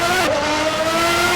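An F1 race car in Assetto Corsa screams at high revs, the last F1 car with a clutch and stick shift; a loud, continuous engine whine holds steady with a brief dip, close and alone.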